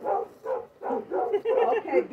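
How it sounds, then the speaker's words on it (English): Dogs barking in a rapid series of bursts at moderate distance, part of a neighborhood Halloween decorating outing. "Okay, beware of the dogs over there."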